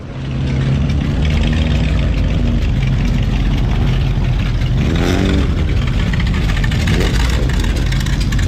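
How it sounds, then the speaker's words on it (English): Vintage V8 hot rods at beach races rumble loudly and close, with engines idling steadily and one revving up in a brief rising surge, and no voices. "The cars are going to start pulling in."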